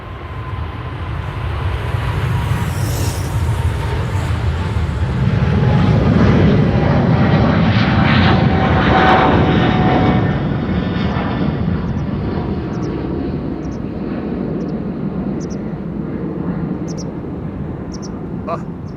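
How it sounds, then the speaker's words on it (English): A KLM Boeing 777-300 airliner takes off at Amsterdam Schiphol, its engines a loud, sustained roar that swells and then slowly fades, with someone talking over it. "KLM flight 591 to Johannesburg. There it is. 777-300 airtime. Here we go."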